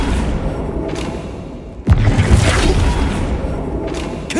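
Flipendo knockback spell cast in Hogwarts Legacy: a sudden heavy thump with a whooshing burst, standing out against steady game ambience, then a fainter swish near the end.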